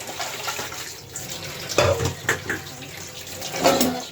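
Running tap water splashes into a kitchen sink while utensils are rinsed, a steady close stream with a few louder splashes and clatters, no talking.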